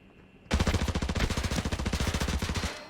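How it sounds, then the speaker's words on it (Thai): Sustained automatic gunfire in the Arena Breakout shooter game, loud and close, a fast, even stream of shots rattling for about two seconds after a quiet start, with no talk over it. "เนี่ยเขาก็ยิงหามุมยิงเราอยู่"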